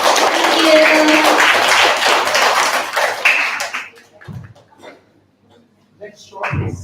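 An audience at an end-of-semester showcase night bursts into dense, sustained applause for several seconds, then the clapping thins out and breaks off as voices take over.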